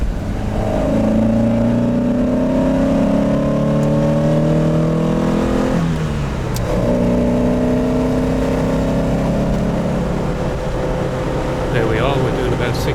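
Triumph TR7 fitted with a full TriumphTune kit cruising on a Cornwall A-road at around 62 mph, a steady engine drone and road roar with a gear-like pitch dip midway, with talk over it.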